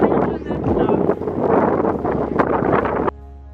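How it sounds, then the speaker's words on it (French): Strong outdoor wind buffets the microphone in gusty, rumbling bursts while a voice talks over it, and the noise cuts off abruptly near the end. "il y a trop de vent"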